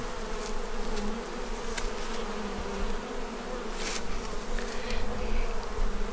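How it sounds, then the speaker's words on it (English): A close, steady hum of many honeybees rises from an opened hive as frames are handled, a dense continuous buzz with a few louder passes of single bees and no talking. "I got into this hive, and I've shaken some of the bees off of one of these outside frames"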